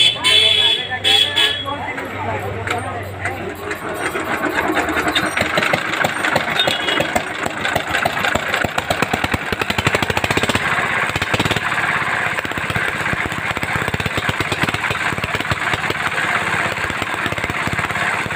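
A China-model diesel engine runs steadily and loudly throughout, its dense mechanical chatter filling the scene after a brief quieter start, with people's voices faintly mixed in.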